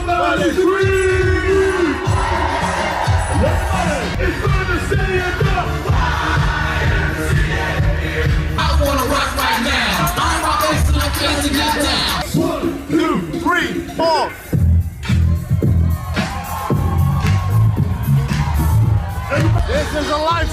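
Festival crowd at WinterFest screaming, whooping and cheering loudly on a dance floor, a dense wall of yells with a voice shouting over it and a short dip before the roar resumes.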